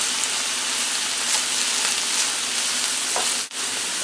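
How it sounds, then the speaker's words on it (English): Onions and grated ginger fry in a pan on medium-high heat, a loud, dense, continuous sizzle like steady rain, with a brief dip near the end. "stir in your onions and your grated ginger"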